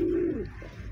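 A white imported pigeon in a cage gives a short, soft low coo, close by and alone, fading into quiet room noise.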